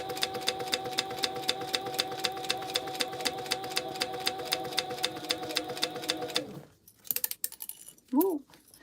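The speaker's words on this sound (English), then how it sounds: "So I'm going to do a 1/2 inch top stitch, and then I'm going to do an 1/8 inch across the top here." A sewing machine runs a fast, even top stitch on a tote bag for about six seconds, then stops, followed by a few light clicks and handling knocks and a brief voice.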